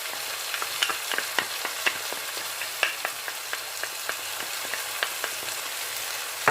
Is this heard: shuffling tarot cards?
no